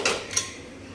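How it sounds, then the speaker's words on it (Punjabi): Two quick metallic clanks as a pressure cooker is set down on a hard surface, close and sharp against a quiet background. "ਕੁੱਕਰ ਰੱਖ ਲਿਆ"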